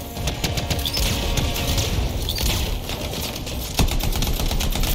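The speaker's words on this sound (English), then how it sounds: "Who's shooting me in the back?" Rapid gunfire in the Anthem video game, a dense chattering burst of automatic shots with sharp impacts and a heavier crack near the end, loud and continuous throughout.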